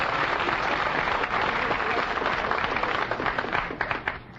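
A studio audience at a vintage radio show bursts into loud, dense applause. Many hands clap in a steady wash that fades slightly toward the end, with no talk over it.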